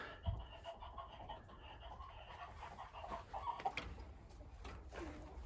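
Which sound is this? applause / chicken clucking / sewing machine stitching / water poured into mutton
chicken clucking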